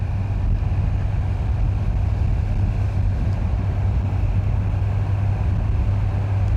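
Kawasaki Z900 motorcycle engine while riding at under 4,000 RPM, a steady low engine drone with wind rush over the microphone, constant and moderately loud with no talking.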